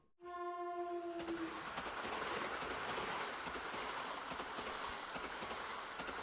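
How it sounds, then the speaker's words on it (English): A train from the Steins;Gate game rumbles past across the way in Akihabara, a steady broad roar holding for several seconds after a brief two-tone horn note at the start. "Across the way, a train rumbles by."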